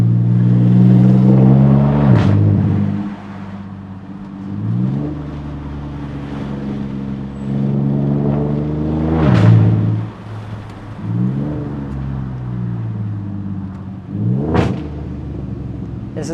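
A loud Audi A5 3.2 V6 (8T3) engine rumbles close by, rising in several revving sweeps with sharp pops and gear changes between steady deep idling stretches.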